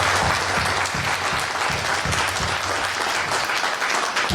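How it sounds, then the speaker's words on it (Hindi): A crowd at a public celebration event in Gorakhpur claps continuously, a dense, loud, even wash of applause that holds steady throughout without voices standing out. "एक बार कृपया आप सभी लोग अपने ताली बजा रखिए"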